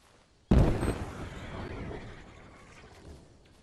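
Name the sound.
landmine explosion in a video game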